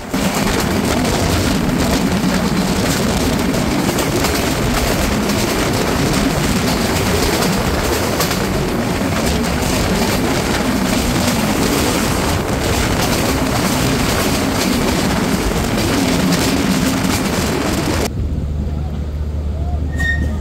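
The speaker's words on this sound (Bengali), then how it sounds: "ট্রেন থ্রুপাসের সবচেয়ে জনপ্রিয় একটি স্টেশন আজিমনগর, যেখানে প্রায় সবগুলো ট্রেনই সর্বোচ্চ গতিতে স্টেশনটি থ্রুপাস করে যায়" The Madhumati Express races through Azimnagar station at full speed, a loud, steady roar of rumbling wheels and rushing air filling the scene with wind buffeting, before cutting off abruptly near the end.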